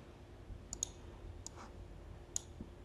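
A computer mouse clicks a few times during page editing in the Elementor builder, sharp isolated clicks spaced irregularly over a faint steady room hum.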